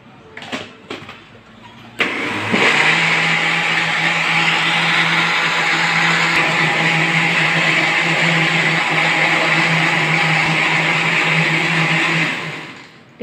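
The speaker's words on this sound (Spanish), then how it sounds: "Y lo volvemos a licuar." A kitchen blender whirs strawberries with sugar for ice cream, starting abruptly after a few clicks and holding a steady, loud motor drone for about ten seconds before winding down.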